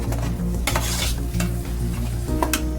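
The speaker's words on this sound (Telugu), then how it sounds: "మేము ఇలా పచ్చిదే పేస్ట్ చేసుకొని వేయించుకుంటున్నాము" Raw spinach paste fries loudly in a pan for a spinach paneer curry, a dense continuous sizzle broken by sharp clinks of a spoon stirring against the metal.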